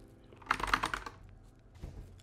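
Computer keyboard typing while editing text in Vim: a quick, close burst of several keystrokes, then a short pause and a couple of lighter taps.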